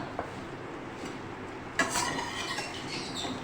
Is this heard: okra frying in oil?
yes